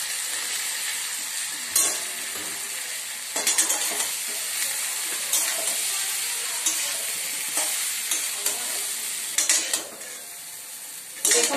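Chowmein noodles with chopped tomato stirred and fried in a pan, a steady close sizzle broken by repeated scraping and clattering strokes of the utensil against the pan, no voices.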